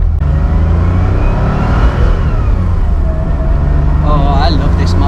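A vintage 2.7L Porsche 911 Targa engine pulls steadily while being driven, a loud continuous drone heard from inside the car with a faint whine riding on top.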